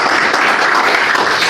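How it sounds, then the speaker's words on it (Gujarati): An audience at a library event in Nadiad applauds to welcome a speaker, a loud dense even wash of clapping from many hands throughout. "આપણે સૌ એમને આપણી તાળીઓથી વધાવી."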